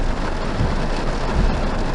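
Heavy rain pounds down in a thick, constant roar, with a couple of low thumps underneath, loud and close throughout.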